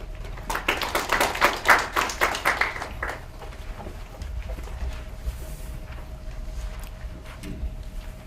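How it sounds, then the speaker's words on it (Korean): Audience applause welcoming a speaker at an RFID/USN seminar, a burst of clapping for about three seconds that fades to room quiet. "박수로 맞이해 주시기 바랍니다."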